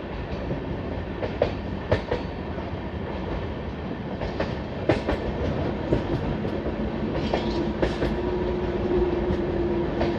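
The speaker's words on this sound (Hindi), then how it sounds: "ये गोला रिवर का ब्रिज जो है वो क्रॉस कर रही है ट्रेन अब" Lalkuan–Howrah train crossing the Gola river bridge on an S-curve, a steady loud rumble of wagons with repeated sharp wheel clicks and clacks, a faint squeal building toward the end.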